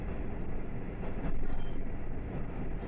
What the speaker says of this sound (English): this train is going as far as Tokuyama Station